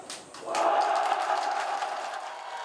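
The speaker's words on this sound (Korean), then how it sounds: "환호성을 지르며 기뻐하는 신병들" New Marine recruits at a Republic of Korea Marine Corps training center graduation ceremony, with families attending, erupt in a loud, sustained crowd cheer that swells suddenly and holds steady to the end.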